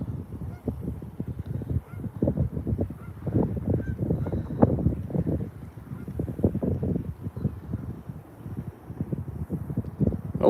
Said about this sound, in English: Don't yap at me, geese.